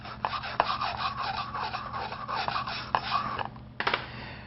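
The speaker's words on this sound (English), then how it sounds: "I'll use my dedicated aluminum wire brush to clean the joint" An aluminum wire brush scrubs an aluminum weld joint being prepped for TIG welding, making a close, steady rasp of quick back-and-forth strokes that pauses briefly near the end before resuming.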